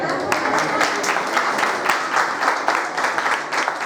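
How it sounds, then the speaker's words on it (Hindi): A congregation applauds during a Methodist church birthday celebration, a moderately loud round of clapping with audible individual claps in a loose rhythm, lasting a few seconds. "उनके लिए तालियां बजाएं"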